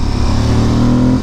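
A 2022 Aprilia Tuareg 660 motorcycle engine revs loud and close around 4,500 to 5,000 RPM, holding a steady, buzzy mid-pitched drone for about a second.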